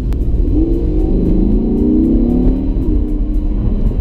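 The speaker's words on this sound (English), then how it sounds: "It's a good engine note, isn't it?" An Audi R8 V10 RWS engine revs up and down with a deep, rising and falling tone, loud and close, under a steady cabin hum.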